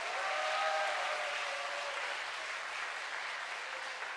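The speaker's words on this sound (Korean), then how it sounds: "다시 한번 두 팀에게 뜨거운 박수 부탁드립니다." An audience at a Valentine's Day concert pitting musical theatre against opera applauds steadily and densely for the full four seconds, with a faint tonal trace lingering early on.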